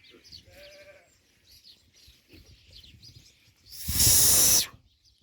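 A flock of sheep with many rams gives a few nearby bleats over a soft background, then a loud, harsh, breathy blast, with no speech.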